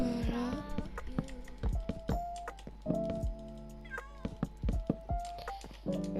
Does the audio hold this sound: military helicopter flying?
no